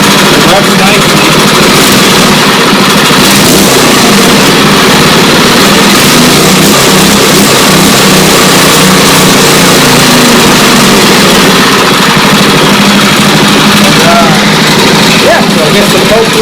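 Small Honda-clone engine with an aftermarket eBay carburetor, running loud and close throughout, its steady roar rising and falling slightly as it revs.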